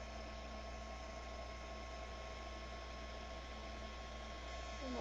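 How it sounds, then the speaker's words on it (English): Heat embossing tool blowing hot air to melt clear embossing powder for a reverse emboss card technique: a steady, continuous fan whir with a faint electrical hum, held evenly throughout without pause. "I'm just going to get my heat emboss tool and I'm going to emboss this."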